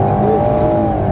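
An Alpine A110 S slides sideways on an Alpine road, its engine droning loud and close as the tires squeal in a brief rising and falling whine.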